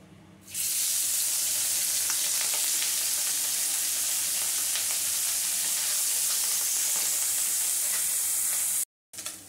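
Small mourala fish, coated with turmeric and salt, frying in hot oil: a loud, dense, unbroken sizzle close by that carries on steadily and stops abruptly just before the end.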